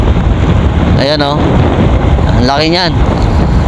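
Strong wind roars steadily into the microphone outdoors at a barangay school, a loud, constant buffeting rumble, with a person speaking briefly over it.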